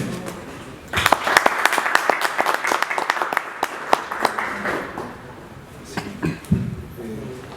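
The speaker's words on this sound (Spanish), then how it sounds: "fuerte aplauso al doctor Octavio Klimek" An audience applauds a speaker, Dr. Octavio Klimek, with a moderate burst of clapping that starts sharply, holds for a few seconds, then thins to scattered claps and murmurs.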